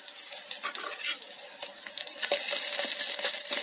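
Carrots and green peas frying with onions, stirred in a pan, giving a soft steady sizzle with scraping and stirring clicks, the hiss growing louder toward the end.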